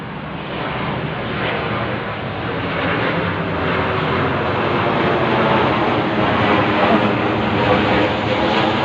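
An airplane flies overhead late at night in light sprinkling rain, making a loud, steady, broad engine roar that holds for the full stretch without a break.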